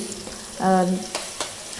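Garlic fries in plenty of hot oil in a kadai for methi bhaji, a soft sizzle beneath a short humming tone and a few light clinks.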